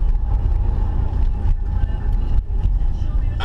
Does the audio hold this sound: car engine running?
yes